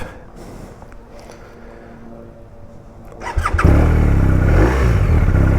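A BMW R1250 RT motorcycle's boxer engine cranks and catches after a few quiet seconds of background sound, then settles into a loud, deep, throaty idle with blips of revving close by.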